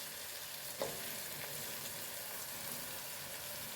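Garlic, ginger and green chili frying with onions in a pan, a faint steady sizzle with a couple of soft stirring taps, no voices.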